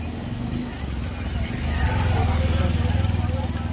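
Engine drone of auto-rickshaws and motorbikes passing close by, a low throbbing rumble that swells louder midway, with street noise underneath.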